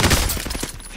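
Rapid gunfire rattles in a video game firefight, a dense close burst of shots striking in quick succession, loud and short.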